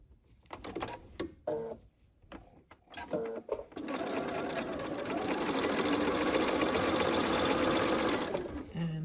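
Quilt pieces for a hunter star quilt are sewn together on a sewing machine, which runs in a loud, continuous stretch after a few seconds of scattered handling clicks and rustles.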